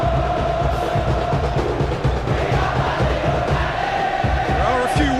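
Football stadium crowd at a Bali United versus Arema FC league match, a dense, sustained roar of cheering and chanting that stays loud and steady throughout, with a few whistles rising out of the mass.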